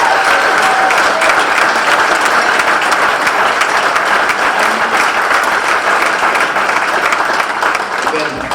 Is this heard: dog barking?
no